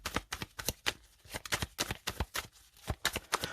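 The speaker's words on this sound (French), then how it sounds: "Je vais mettre une autre carte dessus." Tarot cards are handled and laid down on a table in quick, crisp taps and slaps, a close, irregular series of sharp card sounds with short pauses between them.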